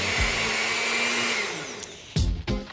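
A countertop blender mixes crepe batter of flour and other ingredients for lemon crepes, a loud steady motor whir that runs continuously for about two seconds, then cuts out, followed by two short bursts of clatter and handling near the end.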